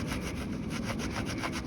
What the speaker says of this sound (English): a scuff pad, which I am going to run up inside there to scuff that rubber a little bit before I clean it